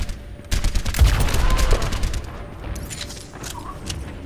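Video game gunfire in Overwatch strikes the player, bursts of rapid shots starting sharply after half a second and rattling on loudly for over a second before thinning into scattered impacts and game effects.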